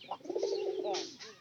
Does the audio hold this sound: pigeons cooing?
yes